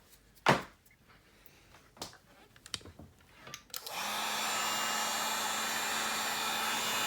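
A heat tool is switched on to warm a stock Nissan 350z headlight, its steady loud blowing hiss starting partway through after a few quiet clicks and handling knocks.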